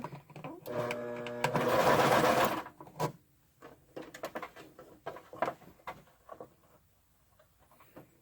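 A sewing machine runs a burst of stitching at stitch length 2, a loud steady mechanical whir lasting about two seconds, followed by quieter clicks and handling noises.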